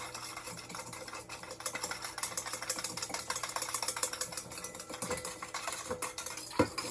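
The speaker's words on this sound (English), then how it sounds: "And stir until dissolved." A spoon clinks and scrapes around inside a cup, stirring Jello mix into boiling water until dissolved, a quiet continuous stirring with light taps and rattles, no voices.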